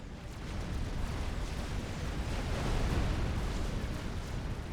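A missile strikes a large base in a strategy video game, giving a loud, sustained rumbling explosion with dense low roar that swells toward the middle and holds for several seconds, with no speech.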